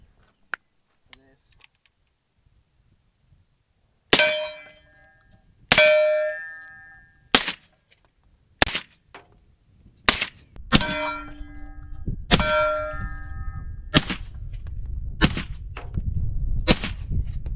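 Suppressed 300 Blackout AR-15 firing at steel targets, a string of about ten sharp shots and metallic rings, spaced irregularly, loud and close, with a steady low rumble building underneath toward the end.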